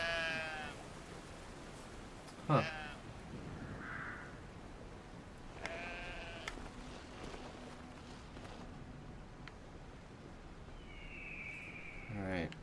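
Sheep bleat in the video game Brothers: A Tale of Two Sons, several clear wavering calls spaced through the scene over a steady game background, with a brief spoken interjection.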